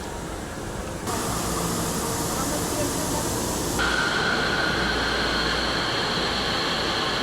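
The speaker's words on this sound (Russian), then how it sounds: "Мы идем сейчас в метро. Спускаемся в метро." A steady, loud rushing roar of a metro train in Panama, with a sudden jump in noise and a high whining tone joining partway through.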